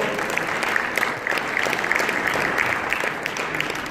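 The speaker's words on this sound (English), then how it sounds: "Give me a big round of applause" Audience applause for a guest at a live event in Dubai, a steady dense wash of clapping sustained throughout, moderately close and filling the room.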